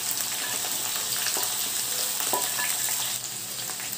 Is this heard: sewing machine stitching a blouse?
no